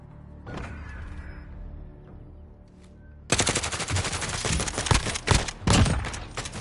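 Rapid automatic gunfire in a competitive team shooter match: loud, dense bursts of shots from about the halfway point, following quieter game ambience and faint thumps.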